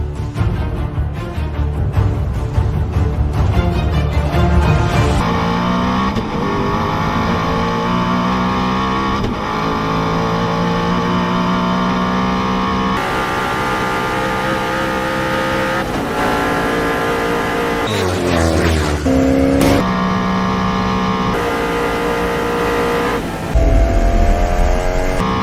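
A 1,160-horsepower Swedish supercar screams through rising gear pulls at very high speed, a loud close engine roar climbing in pitch, then dropping at each shift before climbing again.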